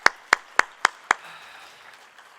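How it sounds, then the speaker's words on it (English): Five sharp, evenly spaced hand claps ring out close by, then fade into a quiet room. "Round of applause."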